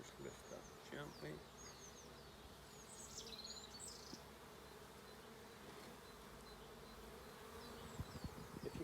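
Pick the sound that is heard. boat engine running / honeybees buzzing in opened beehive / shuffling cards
honeybees buzzing in opened beehive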